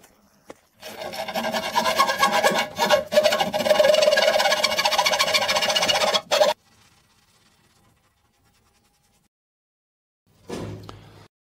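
A fine-toothed hand saw rasps steadily through aluminium in quick back-and-forth strokes for several seconds, then stops; a brief scrape follows after a pause.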